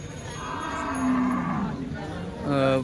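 Cows at a cattle market moo in two drawn-out calls, the second rising near the end, over a murmur of crowd noise and faint voices.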